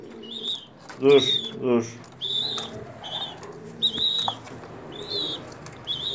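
A young pigeon, hand-raised and just learning to take feed on its own, gives repeated soft high calls and faint wing or movement sounds close by, while a person speaks briefly in between.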